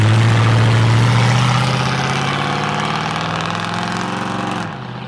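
An engine runs at idle after being cranked, a loud steady low drone close by that gradually eases down and drops slightly near the end, with no talk.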